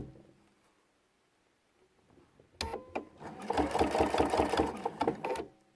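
A sewing machine stitches quilt binding with decorative stitches, starting after a quiet pause with a close, fast rhythmic mechanical whirr and clatter that runs steadily for a few seconds.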